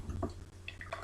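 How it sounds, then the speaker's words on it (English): Liquid carefully poured off a settled mixture of mud and gold particles, heard as a few small splashes and drips spaced irregularly over a faint low hum, fairly close and quiet. "Decanting is where you carefully pour the liquid or the top liquid that's floating"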